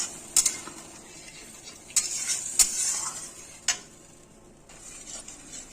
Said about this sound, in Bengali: আমার ঝোল ফুটে উঠেছে।